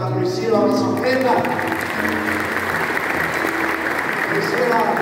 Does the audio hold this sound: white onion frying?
no